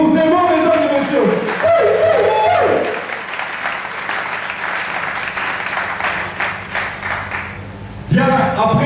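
An audience at an anniversary celebration breaks into loud, sustained applause, a dense wash of clapping lasting several seconds, with a voice speaking over a microphone just before it starts and again as it fades.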